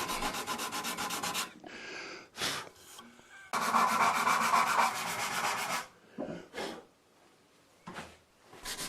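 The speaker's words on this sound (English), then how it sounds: "There's a lot of sanding, but eventually the interesting grain pattern of the blade shows through." A wooden knife blade sanded by hand with sandpaper, giving a close, steady rasping rub in long strokes, broken by short pauses and a few brief separate scrapes.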